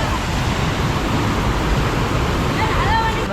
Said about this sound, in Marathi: मुसळधार पाऊस आहे मित्रांनो